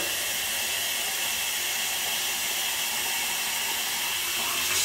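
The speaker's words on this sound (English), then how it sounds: "This is the hottest tap water my tap can make. I fill it full of water." Hot tap water pours steadily into a prosthetic gel liner, a continuous close hiss of running water from a faucet filling it, with no talking.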